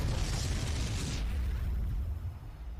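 Concussive shells detonate in a strategy video game as buildings are destroyed, a loud, continuous rumbling boom with a bright crackling burst that fades into a low roar.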